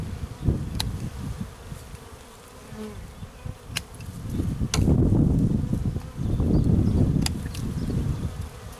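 A honeybee swarm at a meadow apiary hums in a close, continuous buzz that swells and fades, broken by a few sharp clicks from branches being cut nearby.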